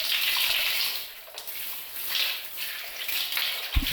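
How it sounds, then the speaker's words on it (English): Shower water running in a lab dressing room in the visual novel Steins;Gate, a steady hissing spray of moderate loudness that swells and dips slightly, with a brief knock near the end. "Now I hear the sound of water running."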